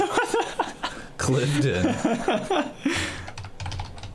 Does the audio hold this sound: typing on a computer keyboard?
yes